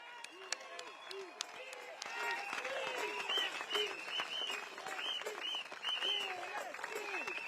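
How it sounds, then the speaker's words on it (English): A rally crowd at a Progress Singapore Party event at Catholic High School claps in a continuous, moderately distant patter while voices and shouts rise over it, the clapping swelling slightly partway through. "Can we have one more round of applause for Bock"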